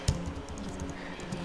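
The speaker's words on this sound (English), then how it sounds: "typing" Computer keyboard typing: a few quick, soft key clicks in an irregular patter, close and fairly quiet, with no talk over them.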